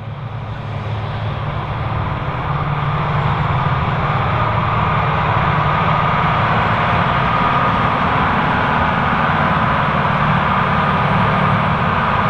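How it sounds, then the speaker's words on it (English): A John Deere 9330 tractor pulls a subsoiler through a field, its engine giving a loud, constant low drone that holds without a break. "I hope that you've enjoyed spending some time out in the field seeing and hearing this John Deere"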